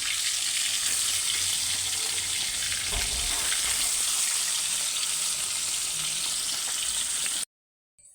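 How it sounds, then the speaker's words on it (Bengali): Fish frying in a pan in a home kitchen, a steady dense sizzle close up with occasional stirring, running unbroken before cutting to silence at the end. "এখন মাছ ভাজা করে নিচ্ছি।"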